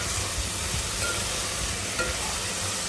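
Broad bean pieces and onions fry in a pan, giving a dense, even hiss with a low rumble beneath, steady and close for a few seconds with no talking.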